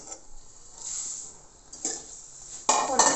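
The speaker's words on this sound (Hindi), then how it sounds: "और देखिए आप पर इन सबको 1 मिनट के लिए भून लूँगी, जब तक कि हमारे मुरमुरे क्रिस्पी नहीं हो जाते।" Puffed rice (murmure) and spices being stirred and roasted in a pan for namkeen, with soft scraping and rustling that builds to sharper clattering strokes near the end.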